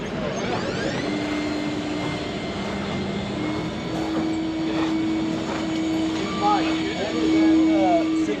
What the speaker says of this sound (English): I think the fan's as loud as the actual